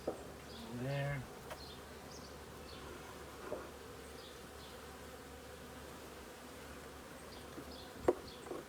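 Honey bees buzz faintly around an opened hive during an early-season inspection with piles of dead bees. The low, steady hum sits under a few light scraping knocks.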